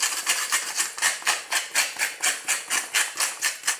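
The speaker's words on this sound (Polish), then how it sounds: "Ja kręcę pieprz młynkiem, ponieważ chcę mieć grubo zmielony." Black pepper ground coarsely in a hand pepper mill: a close, loud gritty crunching repeated in a steady rhythm of about a dozen turns, with no talking.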